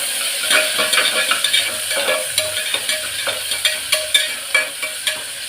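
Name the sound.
onion, green chilli and curry leaves frying with mustard seeds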